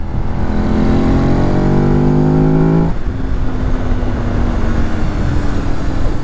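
A 2006 Ducati Monster S4RS revs hard and close, its rising engine note climbing for about three seconds before cutting off to a lower steady drone.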